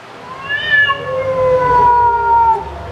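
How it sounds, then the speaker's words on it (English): A cat meows in a drawn-out, rising-and-falling call lasting a couple of seconds, close and fairly loud, with no talk over it. "That's a kitty."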